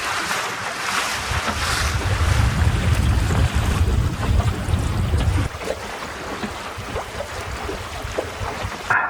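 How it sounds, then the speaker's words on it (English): Steady, strong wind roars past a small sailing dinghy on Myall Lakes, with water rushing along the hull, loud and continuous throughout and easing slightly partway through. "The wind is building."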